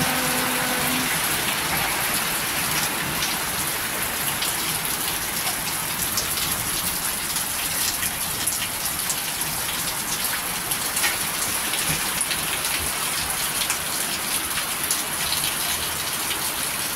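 Heavy rain pounds a leaky house roof in a dense, unbroken hiss of countless drops, loud and close throughout, with no talking.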